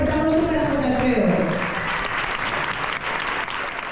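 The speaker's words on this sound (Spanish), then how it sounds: "Un fuerte aplauso para José Alfredo" Loud, sustained applause from a crowd at a village festival for the Santísimo Cristo de la Luz in Chillarón, steady clapping that holds for about four seconds and eases slightly toward the end.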